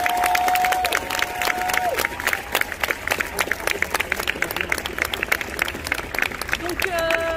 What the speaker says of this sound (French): Écoutez-les, applaudissez-les.